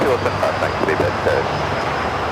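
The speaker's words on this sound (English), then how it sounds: "That is Korean Air Flight 11 coming in from Seoul" A Korean Air airliner arriving from Seoul approaches to land at Los Angeles International Airport, its engine roar a steady distant rumble beneath radio chatter and talk.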